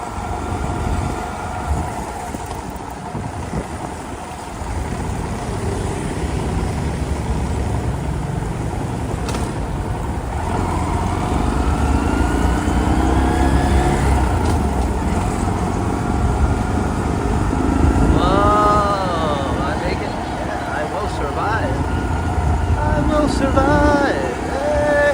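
Motorbikes and other traffic pass along a rainy Phuket road near the seashore, a steady wash of engine noise and wet tyre hiss with passing vehicles swelling and fading, and louder nearby engine whines and revs toward the end.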